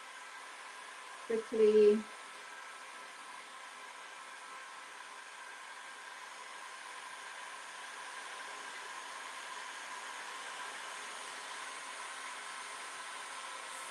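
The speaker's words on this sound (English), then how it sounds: "I'm using my heat gun at the moment to dry that" A heat gun blows hot air to dry stencil paste on a metal piece, giving a steady, soft airy hiss that runs throughout after a brief moment of speech near the start.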